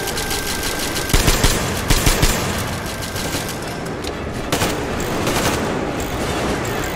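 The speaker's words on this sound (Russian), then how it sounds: "пулеметик, мне нравится." Machine gun fire in the video game Metro Exodus, a dense rattling burst of rapid shots over steady game ambience, with a few heavier thumps spaced through the clip.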